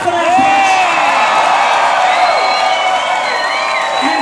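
A packed crowd at a San Francisco drag show at the DNA Lounge cheers and whoops for Heclina, a loud continuous roar with rising shouts, whistles and some clapping throughout.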